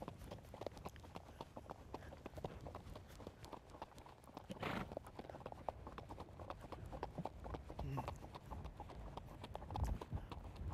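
Hooves of a ridden Icelandic horse clip-clop in an even, rhythmic gait, close and moderately quiet, continuing steadily for about ten seconds.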